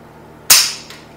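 An AK rifle's trigger is pulled once, giving a single loud, sharp snap up close, followed by a faint second tick.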